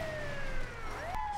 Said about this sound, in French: Ah, mais c'est parce que j'ai la sirène!